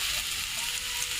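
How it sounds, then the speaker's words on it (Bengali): Onions frying in a pan until browned, a close, continuous hiss and crackle of oil with no voices. "পেঁয়াজটা ভাজা হয়ে গেছে, একটু লাল লাল হয়ে গেছে"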